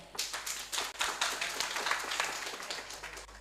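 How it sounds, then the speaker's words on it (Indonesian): An audience claps before a kuda lumping horse dance performance at a halal bihalal event in Klaten, a moderately distant burst of applause that swells and slowly tapers. "Beri tepuk tangan yang meriah."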